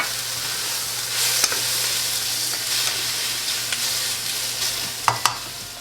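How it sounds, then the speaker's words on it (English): Onion, garlic, red pepper and ginger sizzle in a pan with a dense, continuous close hiss, and a few sharp clicks of a utensil near the end. "let's cook the onion, garlic, red pepper first, and the ginger"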